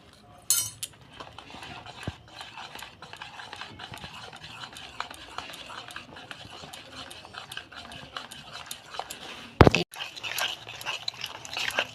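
Eggless cake batter with baking soda and baking powder whisked in a bowl, giving a fast, continuous run of close light ticks and scrapes, then a brief loud knock near the end.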